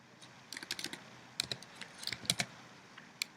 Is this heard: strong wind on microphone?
no